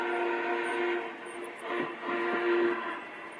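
A Lionel model train sounds the whistle of an FEF steam locomotive, a sustained steady tone that swells and dips across several seconds without any pause.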